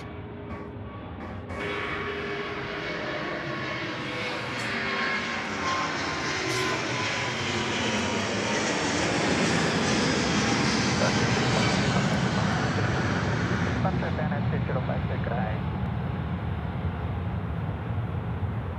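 A Qantas heavy jet airliner lands at night at Sydney Airport, its engines giving a loud, steady roar that swells and holds for the whole stretch, with a broad rushing wash and no voices.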